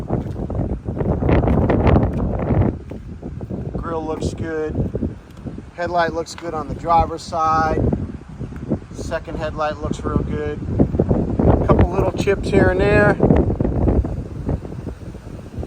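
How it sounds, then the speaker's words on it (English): Wind gusts rumble into the microphone outdoors during a walk-around of a 2014 BMW X5. A low buffeting roar runs under a man's close, steady commentary throughout. "Sorry about the wind."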